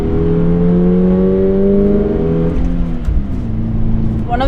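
The 2.4-liter boxer engine of a Toyota GR86 pulls hard with a loud, rising drone from inside the car, the pitch climbing before a shift. Someone talks over it.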